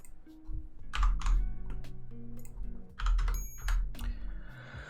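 Fingers type on a computer keyboard in short bursts of clicky keystrokes with brief pauses between, close and clear with no talking.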